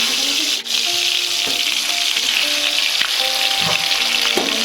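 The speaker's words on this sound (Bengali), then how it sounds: "ভেজে নেবো কয়েকটা আলু ভাজে গোল গোল করে" Round potato slices frying in hot oil in a kadai, a loud bright continuous sizzle with occasional clinks and scrapes of a utensil, no talking.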